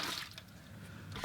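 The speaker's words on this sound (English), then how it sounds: "I'm going to empty my water just one time" Used watercolor rinse water being emptied from a painting water container, giving a short run of splashing and trickling with a few drips, close and fairly quiet.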